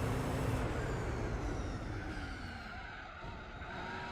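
A race car's worn rear tires squeal in the Gran Turismo 4 racing game, a continuous loud hiss and screech over the engine roar that eases slightly toward the end.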